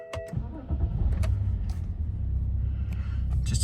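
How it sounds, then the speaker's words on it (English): A 2009 BMW 530d M Sport E60 diesel starts up: chimes, a brief crank, then the engine catches and settles into a steady low idle rumble, heard from inside the car. "We'll just start the vehicle so you can see there are no warnings."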